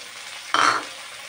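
Goat liver with onions is stirred in a hot frying pan, giving a brief, close burst of sizzling and scraping that rises suddenly and then fades.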